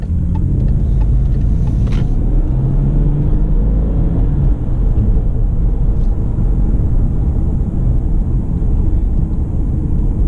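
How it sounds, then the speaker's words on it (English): A 2017 Subaru Legacy 3.6R Limited with a six-cylinder engine and CVT drives along, giving a steady, smooth low rumble with road and cabin noise. The sound stays loud and constant for about ten seconds, and no one speaks. "this 6-cylinder engine is really smooth"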